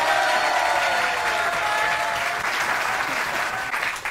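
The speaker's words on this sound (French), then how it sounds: "Je vous demande d'applaudir" An audience claps enthusiastically to welcome a television personality and singer onto the stage, a full burst of applause with some crowd noise that slowly tapers off near the end.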